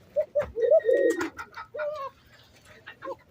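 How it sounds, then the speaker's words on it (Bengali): Several pigeons in a home pigeon house coo in a run of low, rounded calls, a few rising and falling in quick succession then a softer coo near the end, close and clear with no talking. "এই যে কবুতর আমার সব মিলিয়ে এখন মোটামুটি মাশাআল্লাহ আলহামদুলিল্লাহ সবগুলো কবুতর কিন্তু সুস্থ সবল"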